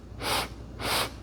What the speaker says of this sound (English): inhale in 4 equal sniffs